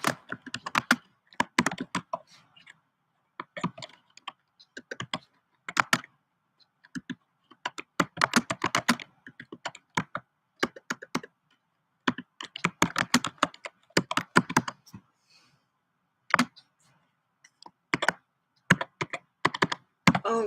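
Bursts of typing on a computer keyboard, close and crisp, irregular clusters of key clicks separated by short pauses, with no talking.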